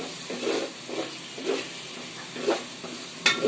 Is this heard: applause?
no